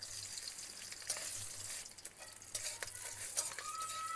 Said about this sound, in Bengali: এগুলোকে হালকা একটুখানি ভেজে নেব